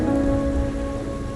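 Steady rain pours in Wuthering Waves on a rainy night, a dense continuous hiss with a low rumble and a faint tonal hum underneath, no voices.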